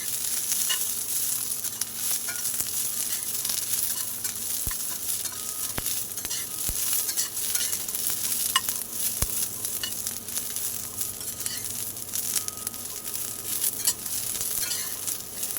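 Green chilies and garlic roast in oil in a pan for Maharashtrian thecha, giving a steady close sizzle with stirring and occasional sharp clicks of a spatula against the pan, with no talking.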